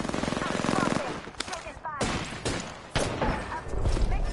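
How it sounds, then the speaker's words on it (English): Rapid gunfire in an Apex Legends match early in round one, dense bursts and single shots cracking close and loud, with game voice chatter mixed in. "I'm taking shots"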